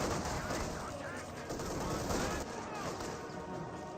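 Gunfire from a Company of Heroes 2 battle, with dense overlapping rifle and machine gun bursts crackling continuously alongside artillery rumble, loud and busy throughout, with voices partly buried in the mix.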